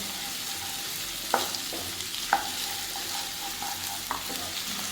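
Split onion sizzles steadily in hot oil for chilli chicken, a moderate frying hiss broken by a few sharp clinks of a spoon against the pan, with no one talking.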